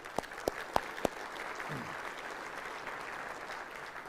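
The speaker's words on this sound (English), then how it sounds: "let's give a round of applause to the Isle of Capri" Applause at a State of the City address luncheon at a waterfront convention center: a few sharp, separate hand claps close by, then a faint, diffuse wash of distant crowd clapping.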